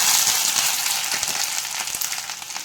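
Ginger and mustard seeds fry in hot peanut oil, giving a loud, dense sizzle with scattered crackles and pops from the seeds throughout.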